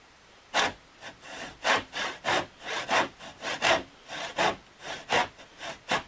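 A hand saw cuts through cedar to replace a rotten keel section on a cedar strip boat. Steady back-and-forth strokes, about fourteen, sound close and distinct with short gaps between them.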